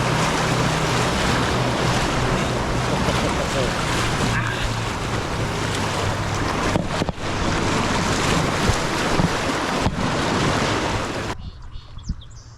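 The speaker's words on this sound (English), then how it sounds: "This is the Animas River, which flows through Durango, Colorado" Rushing water of the Animas River flows through Durango, Colorado, a loud, steady broadband roar with heavy wind buffeting the microphone, cutting off abruptly near the end.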